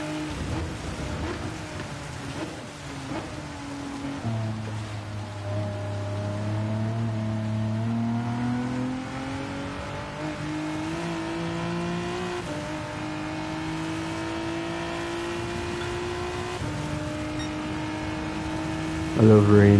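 Rain hisses during a Gran Turismo 7 race, a steady wash beneath a loud, droning car engine whose pitch rises and falls through gear changes, with no talking.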